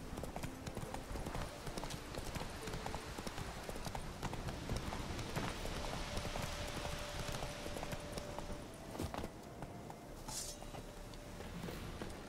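Horse hooves clip-clop in a steady walking rhythm in The Witcher 3, close and continuous over the game's ambient background.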